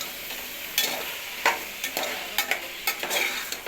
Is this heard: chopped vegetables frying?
yes